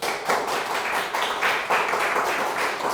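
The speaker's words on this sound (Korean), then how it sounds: "하나님께 영광의 박수를" Church congregation clapping together during a Sunday worship service, a dense steady wash of many hands with slight surges in rhythm, fairly loud and close, no voices over it.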